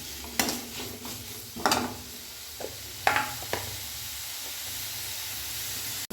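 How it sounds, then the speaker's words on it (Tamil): Tomatoes sizzle in a pan over a fairly high flame while being stirred for a chutney: a steady frying hiss with several sharp utensil scrapes and clinks against the pan. "தக்காளி இது நல்லா வதக்கிக்கோங்க"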